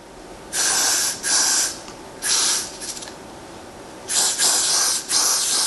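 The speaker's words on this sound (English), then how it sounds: "I'm gonna do a little bit of freezing gel over that, or freezing spray over that." Several hissing aerosol sprays of hair freezing spray, close by: a few bursts of varying length separated by short pauses, with a longer pair of sprays near the end.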